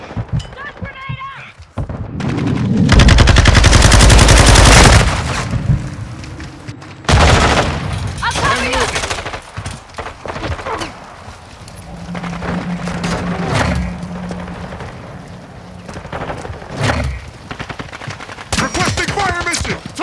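Gunfire in Call of Duty: Modern Warfare II, loud sustained automatic bursts and single shots with explosions, mixed with shouted voices and battle noise.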